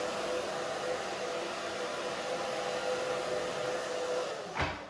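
A hair dryer on its low setting blows steadily close by while drying hair, a constant whirring rush that stops with a brief knock at the end.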